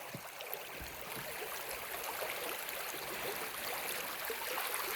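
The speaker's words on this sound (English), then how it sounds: "a torrent of water coming down here. An absolute torrent of water." Rushing torrent of water flows under a bridge on Bodmin Moor, a steady, dense, close wash of noise with no pauses and no voices for the whole stretch.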